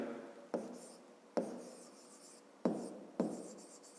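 Pen on paper writes out a math exercise, four quick scratching strokes each fading into a soft drawn-out rub, close and quiet in an otherwise silent room.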